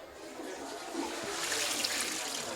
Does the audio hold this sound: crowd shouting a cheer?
no